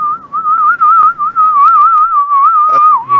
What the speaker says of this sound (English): don't whistle into the mic.